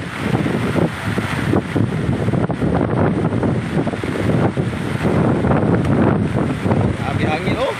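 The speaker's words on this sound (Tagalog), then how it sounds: "Ah, grabe yung hangin dito," Strong wind roars and buffets the microphone continuously during a storm with flooding, loud and rough, with a person talking underneath.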